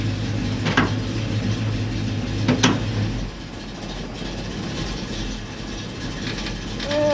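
A Chevelle engine idling in gear at low RPM with a carburetor, a steady low rumble with a couple of clunks early on, then a quieter continuous idle; no talking.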